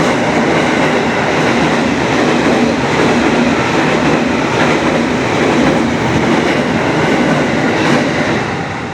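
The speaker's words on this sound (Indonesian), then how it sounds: "di sini ya memang pinggir kereta ya" Train passing close beside the railway line, a loud, steady rumble of rolling wagons with wheel clatter filling the whole stretch, heard alongside the tracks.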